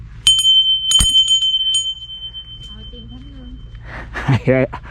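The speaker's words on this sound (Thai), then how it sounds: "ตรงนี้จุดขอพรต่างๆนะครับ ขอพรมีกระดิ่งด้วย" A wish bell at a shrine in Nikko is struck twice, giving two bright, ringing metallic chimes that linger, followed by nearby talking.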